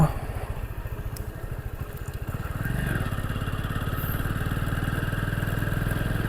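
A motorcycle engine idles and chugs nearby in a steady rapid putter, swelling slightly louder partway through on a hill road near Kundana Betta, with faint voices in the background.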